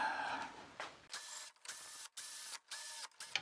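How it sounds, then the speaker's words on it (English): A ratchet wrench turning crossmember bolts on a 1978 Corvette, sounding as a close, steady series of about five short mechanical clicking strokes with brief pauses between them. "Let's get a ratchet."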